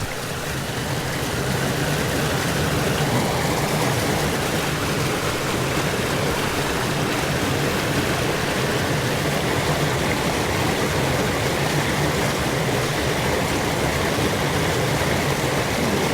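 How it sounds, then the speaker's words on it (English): Stream water in a quebrada rushes steadily, a loud, even broadband roar of flowing water that holds without a break from start to finish. "The water is flowing now."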